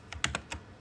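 A few crisp computer-keyboard key presses, including the Enter key, sound as four quick, close taps in under a second, with no voices.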